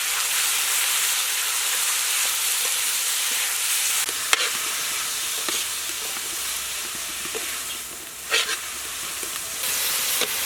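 Shrimp stir-frying in sauce in a pan, a steady loud sizzle and hiss with occasional sharp clinks of a utensil stirring, no talking.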